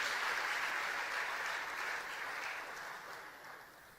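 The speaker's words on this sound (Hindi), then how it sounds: "तालियों से स्वागत करते रहिए।" Sustained applause from an audience at a Madhya Pradesh chief minister's event honouring successful UPSC candidates, a thick, even patter of many hands that eases slightly toward the close.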